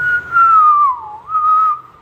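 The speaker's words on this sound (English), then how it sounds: "When he heard the whistle" A single wavering whistle tone sounds loud and alone in two long blasts, the pitch sliding down and back up between them, with no talking.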